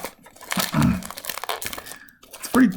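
Foil wrapper of a 1994 Upper Deck Series 2 baseball card pack being torn open, with close crinkling and tearing bursts in uneven spurts and a louder rip near the end.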